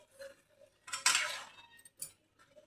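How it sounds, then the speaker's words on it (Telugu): A spoon scrapes and clinks against a pot while stirring chicken gongura curry, a few brief metallic strokes close by with quiet gaps between them. "ఈ చికెన్ మొత్తం కలదీసుకోవాలి"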